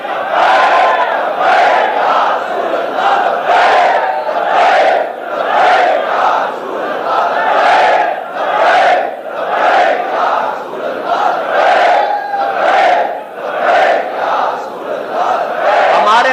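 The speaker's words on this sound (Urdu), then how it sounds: "حضور کا ذکر ہو تو ہم نعرہ ہی وہ بلند کرتے ہیں کہ لبیک" A large crowd chants the religious slogan "Labbaik" in rhythmic, repeated bursts, loud and sustained, voices rising and falling together in a steady cadence.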